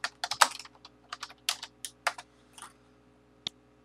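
Typing a name on a computer keyboard while working in Revit architecture software: a quick run of close, crisp keystrokes over about two and a half seconds, then a pause and one last key press, with no talking.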